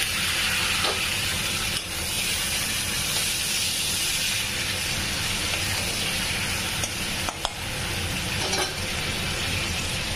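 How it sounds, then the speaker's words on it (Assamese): A fried fish head goes into a hot pan of fried onions with turmeric, and a loud, even sizzling hiss with steam holds steadily throughout, broken by a few faint knocks. "মাছৰ মাথাখিনি ভাজি থৈ দিছিলোঁ এয়া দি দিম।"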